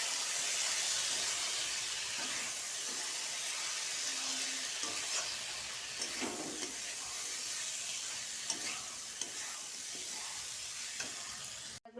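Spiced potato filling for samosas frying and being stirred in a pan, with a steady close sizzle and hiss and occasional scrapes and clinks of the spoon throughout, no voices.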